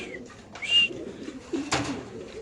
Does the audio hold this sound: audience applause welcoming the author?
no